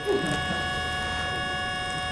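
A sustained synthesized dyad sounding a badly out-of-tune wolf fifth in quarter-comma meantone tuning, with a steady stack of bright harmonics and audible beating, held evenly for about two seconds without speech.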